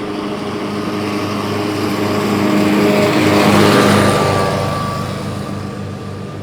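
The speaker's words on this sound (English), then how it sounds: "Looks like there's a guy driving a lawnmower." A small riding lawnmower engine drones steadily, swelling louder as it passes close by and then fading slightly, with no voices.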